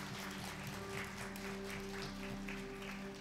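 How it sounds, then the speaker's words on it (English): A church congregation applauds volunteers who served over the weekend, a steady wash of clapping spread through a hall over a constant low hum, fairly quiet and distant with no talk. "Can we just give them a round of applause?"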